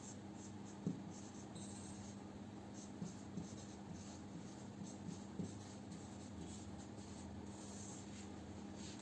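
Faint scratching of a pen or chalk writing a chemical formula, with soft intermittent strokes and taps over a steady low hum in a quiet classroom setting.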